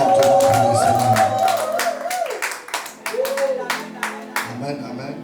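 A church congregation claps and cheers at a service, with dense rapid applause and shouting voices over sustained music tones, the clapping thinning into scattered claps toward the end.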